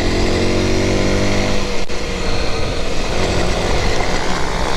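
An Aprilia SX 125 motorcycle engine runs steadily, a loud, close, continuous drone that holds level for several seconds with a brief dip near the start.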